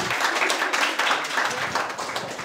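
A comedy club audience applauds a comedian taking the stage, with loud, close, dense clapping that continues steadily with no speech over it.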